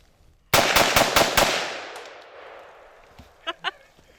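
A Smith & Wesson M&P15 Sport II AR-15 rifle fires steel case ammo in a fast string of about five loud, sharp shots, each with a ringing tail, followed by a couple of fainter knocks.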